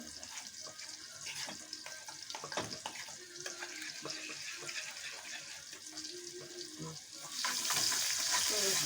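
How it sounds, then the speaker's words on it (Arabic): Molokhia topping (ta'liya) fries in a pan on a stovetop burner, giving a soft, steady sizzle throughout with faint clinks, and a brighter hiss swelling near the end. "بحط على العين التانية التقليه بتاعت الملوخيه"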